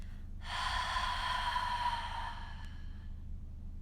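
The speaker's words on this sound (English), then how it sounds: "Open mouth, exhale," A single long breath is pushed out through an open mouth during a yoga flow, breathy and close, lasting about two seconds and fading over a low hum.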